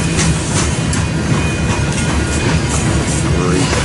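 Union Pacific and BNSF trains roll past in Fremont, Nebraska. Steel wheels rumble and clatter loud and close in a continuous roar, with faint squeals rising above the steady din and no voices.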